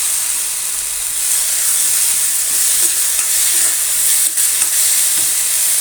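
Turmeric and chili powder masala is stirred in a hot frying pan for kotthu parotta, with a steady, loud sizzling hiss and faint scraping of the spoon running throughout.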